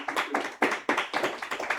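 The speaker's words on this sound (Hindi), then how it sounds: "ये अच्छा 20 वाले के लिए बहुत अच्छी वाली ताली बजाओ कि आवाज रोड पर जानी चाहिए।" Classroom students clap their hands together in a loud, close, steady rhythmic beat, with evenly spaced sharp bursts and no talking.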